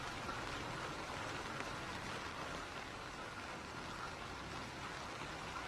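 Steady rain falls during a Norwester downpour in a waterlogged low-lying area of Cuttack, a dense, even hiss of drops on wet surfaces and pooled water that holds at constant loudness throughout, with no voices.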